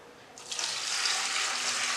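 Tap water pours steadily into a stock pot for white beef stock, a broad rushing hiss that starts abruptly and continues loud and close with no talk.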